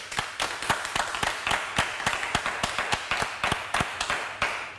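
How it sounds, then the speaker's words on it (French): On a television set, a small studio audience claps after an apology, sharp separate handclaps in a steady, moderately paced rhythm, fairly close and of even loudness throughout. "Bravo, ça s'applaudit. Applaudissez."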